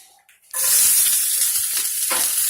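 Onion hits a hot pan and a loud, steady hiss of frying erupts after a brief quiet moment, continuing without pause.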